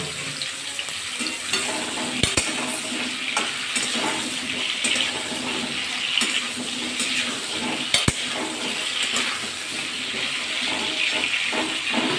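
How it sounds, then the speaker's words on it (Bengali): Salted pieces of pointed gourd (potol) fry in hot oil left over from frying potatoes, giving a steady, close sizzle with a few sharp clicks of utensils and no talk. "এই তেলেই পটলগুলো ভাজা করে নেব"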